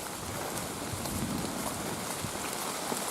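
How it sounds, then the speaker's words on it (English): Dense, steady rain falls on a wooded mountain trail, a broad even hiss of many drops without pause and no talking. "the rain comes on and off"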